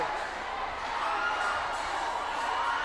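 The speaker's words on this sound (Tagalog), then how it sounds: "Look at the crowd. Listen to their roar." A crowd roars at a basketball game inside a covered court, a steady, moderately loud wash of cheering and shouting that holds without breaks.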